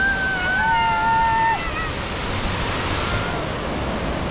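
Mother Falls waterfall at Ditumabo makes a steady broad roar throughout, with a brief whistle-like tone over it near the start.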